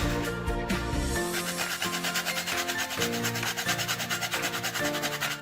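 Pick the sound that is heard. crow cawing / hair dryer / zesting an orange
zesting an orange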